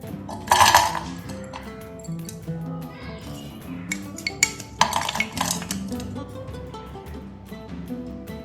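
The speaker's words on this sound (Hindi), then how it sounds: "अब एक पैन में फालसा डाल दूंगी।" Phalsa berries tumble into a metal pan while a falsa chutney is being made, giving a quick burst of clinks and rattles, then scattered lighter taps and clatter nearby, with no talk.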